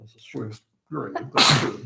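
A single loud, sharp sneeze bursts out near the microphone at a county commissioners' court meeting, right after a stretch of conversational speech by a man.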